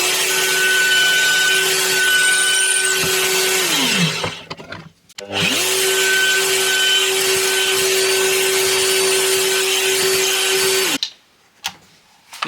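An electric drill fitted with a 6 mm bit bores into wood for a wooden knock-down Christmas tree. Two long, loud bursts of motor whine ramp up and back down, separated by a short pause, and the second run ends abruptly.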